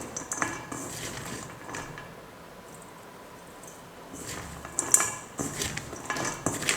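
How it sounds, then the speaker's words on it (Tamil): Spoon mixing spiced potato in a wide vessel, intermittent scraping and clinking of metal against the pot, faint and close, with busier knocks toward the end. "நீங்கள் இதை வந்து சேர்த்து மிக்ஸ் பண்ணுங்கள்"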